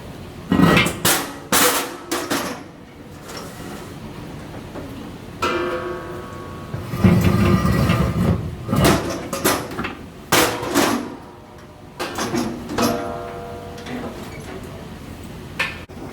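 Heavy metal beer kegs at a brewery bang and scrape as they are shoved off a hydraulic lift onto a stack, giving several loud clattering knocks and ringing metallic thuds spread across the stretch, with no talking.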